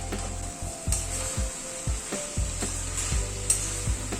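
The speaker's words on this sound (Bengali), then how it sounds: "সবজিটা মশলার সাথে আরো মিনিট 2 মতো কষিয়ে নিলাম।" Mixed vegetables sautéing with spices in a pan, a soft steady sizzle broken by repeated scraping stirs at a regular pace, close and fairly quiet with no talk.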